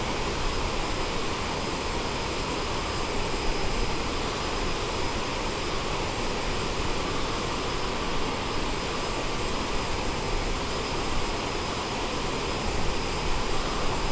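The engines of a CRJ-700 jet airliner in Microsoft Flight Simulator give a steady, loud, unbroken roar and whine, heard alone with no voices.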